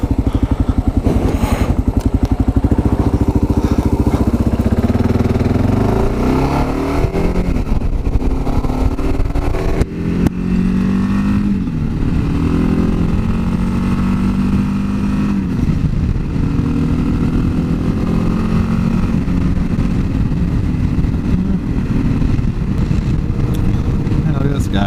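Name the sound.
2022 Kawasaki KLR650 motorcycle being ridden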